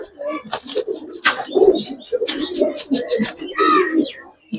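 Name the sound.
Giribaz pigeon cooing in the loft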